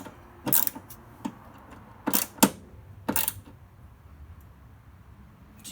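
Wrench clicks and ratcheting while tightening the front strut bar bolts on an ND Miata to 14 foot-pounds, a few short sharp bursts close by with quiet pauses between.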